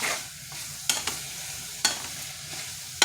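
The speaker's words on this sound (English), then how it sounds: "I just need to sweat the vegetables in here to bring out all the aromatics" Vegetables sweating in a cooking pot while being stirred, a soft steady sizzle with a few sharp scrapes and clinks of a utensil against the pot, close and moderately quiet.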